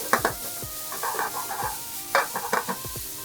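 A hamburger patty browns in a restaurant frying pan with a soft, steady sizzle, broken by several sharp scrapes and clinks of a utensil stirring and pressing against the pan.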